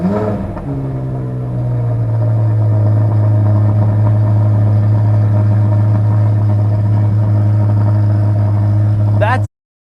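A 2023 Chevrolet Corvette Z06 with a quad exhaust fires up and settles into a loud, steady, deep idle close by, then cuts off abruptly.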